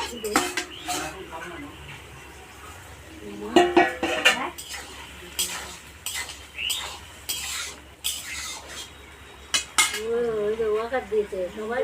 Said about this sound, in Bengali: এবার আমি ঢাকাটাকে খুলে দেবো